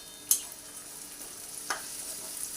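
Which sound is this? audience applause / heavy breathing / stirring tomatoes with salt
stirring tomatoes with salt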